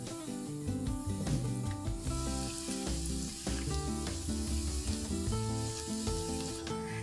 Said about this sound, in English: now I'm going to add some finely minced garlic and finely minced ginger. Saute that till the raw aroma goes away.